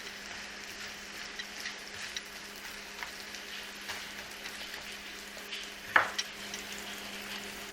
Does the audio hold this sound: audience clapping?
no